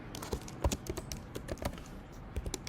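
Keys clatter on a computer keyboard as code is typed, a close, dry run of irregular clicks and taps at a quick pace with short pauses, alone and without talk.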